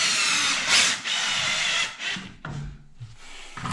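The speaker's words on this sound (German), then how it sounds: "Aber ich mache nochmal zwei Schrauben zur Fixierung rein." Power drill driving screws into a tiled shower niche shelf, a steady loud whirring burst followed by shorter bursts with brief pauses between them, close by.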